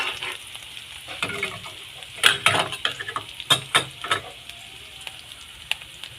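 Shrimp paste (alamang) sautéing in a pan gives a continuous close sizzle, broken by several sharp clinks and scrapes of a utensil stirring against the pan, with no talking.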